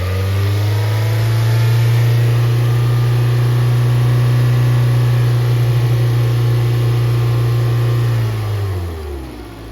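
Car engine held at a steady raised rev during a MAP sensor lab, a loud close droning hum lasting several seconds before easing down as the throttle is released.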